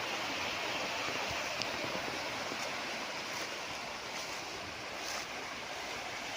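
Irrigation canal water runs strongly past a farm lot in Liliw, Laguna, a steady, broadband rushing roar that stays loud and unbroken throughout, with no one speaking.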